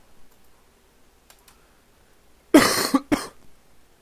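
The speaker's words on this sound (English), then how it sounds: "I'm probably going to have to sit and edit out all these coughs" A person coughs twice, close and loud, a harsh burst followed by a shorter one, after a quiet stretch with faint clicks in the background.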